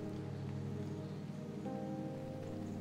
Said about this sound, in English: soon enough the snowfall gave way to rain